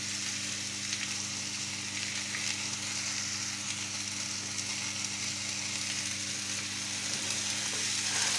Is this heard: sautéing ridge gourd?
yes